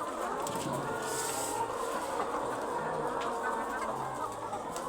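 Laying hens on a poultry farm keep up a steady, dense clucking chorus, many birds murmuring and calling at once at moderate volume with no break.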